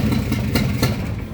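Engine of a 1962 Ford F100 that had sat for years, running on its first start with a straight-up manifold. It gives a loud, close, rough, steady rumble with a few louder pulses and no talking.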